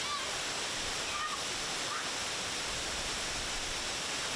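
A roughly 30-metre waterfall in Lembah Masurai, Merangin, Jambi, Indonesia, gives off a constant, even rushing roar, soft and unchanging throughout.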